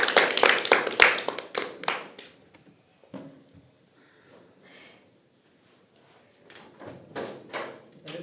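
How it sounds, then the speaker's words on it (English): A round of applause for a player at a mafia game tournament, a brief burst of clapping from a small group that quickly fades into quiet room noise, then a little more clapping and shuffling. "Round of applause, player number 6."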